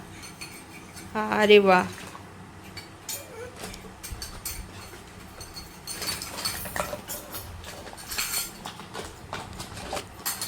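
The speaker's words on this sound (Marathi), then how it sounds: "भांडी घासून दाखव मम्मीला" A young child scrubs steel dishes and utensils at home as a therapy exercise, producing close, irregular clinks and scrapes with a louder clattering burst early on; adults speak briefly in between.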